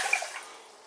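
Water pours into a pot holding one cup of rice, a brief splashing gush that quickly fades into trickling.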